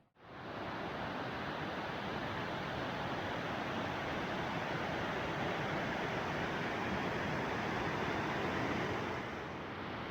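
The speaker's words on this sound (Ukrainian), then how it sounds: "дивіться, який великий поток води. Як тут шумно" A loud, steady roar of rushing water fills the whole clip without pause, a dense broadband wash close to the microphone.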